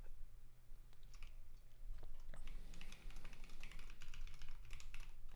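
Rapid, uneven typing on a computer keyboard during live Rust programming, dense clattering keystrokes in bursts over a low background hum, close and moderately quiet.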